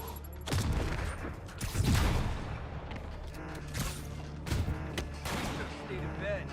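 Enemy gunfire in the Spider-Man Remastered video game, bursts of shots and sharp bangs scattered across several seconds, mid-distance and moderately loud, mixed with shouting voices and game action.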